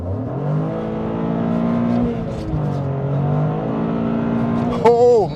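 A 2023 Toyota GR Corolla accelerates hard, its engine droning loud and steady with rising harmonics as it keeps pulling, with a sharp upward whine near the end and a voice talking over it.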